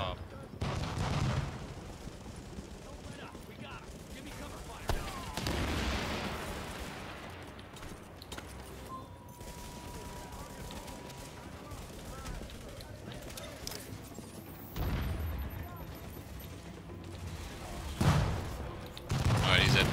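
Gunfire from a firefight in The Division, bursts of shots and booms recurring across the stretch with players talking over the combat.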